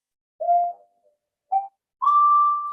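A mono Moog synthesizer plays three clean whistle-like notes against silence: a short tone, a brief blip, then a longer sustained note with a slight upward glide.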